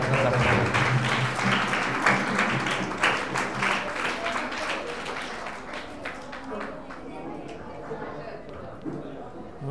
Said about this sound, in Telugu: అందరు చప్పట్లు కొడుతున్నారు.